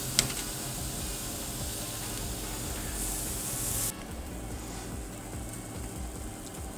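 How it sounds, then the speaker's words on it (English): Flap steak sizzling over hot charcoal coals on a grill, a steady close hiss that drops in intensity partway through. "All right, we'll go ahead and put this right over the coals. And let it start cooking away."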